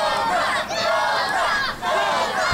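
Wrestling fans cheer and chant in waves to urge a downed wrestler back to his feet, a loud crowd roar with rhythmic shouted chants rising and dipping briefly before swelling again.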